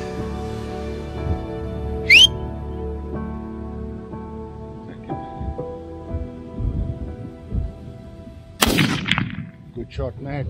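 Rifle shots on a roan antelope hunt in Africa, one sharp crack early and a second loud blast with a booming tail later, both distant in open country between quieter rustling.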